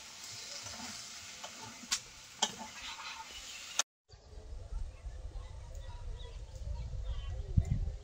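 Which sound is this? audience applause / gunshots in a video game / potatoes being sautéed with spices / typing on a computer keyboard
potatoes being sautéed with spices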